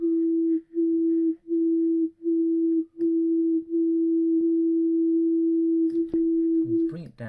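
A steady synthesizer tone sounds in repeated pulses, then holds continuously while its filter cutoff is raised, growing brighter toward the end, where some brief noise enters.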